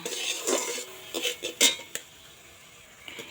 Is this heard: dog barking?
no